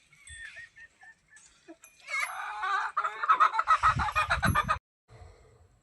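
Farmyard chickens cluck and squawk close by at morning feeding time, first in scattered short calls and then in a dense, excited burst of overlapping clucks before falling quiet.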